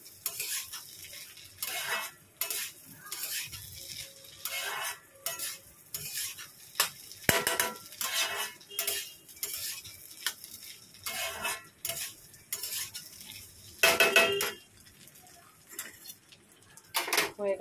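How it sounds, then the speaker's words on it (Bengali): Rice being sautéed with turmeric and spices in a pot for khichuri: repeated scraping and clinking stir strokes over a light sizzle, irregular and close, with bursts of spoon against metal. "এই দিয়ে চালটা দিয়ে ভালো করে একটু কষাচ্ছি"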